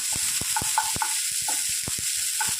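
Chopped onions fry in hot oil for Maggi noodles, a constant sizzle broken by sharp, irregular scraping clicks as a spoon stirs the pan, with no voices.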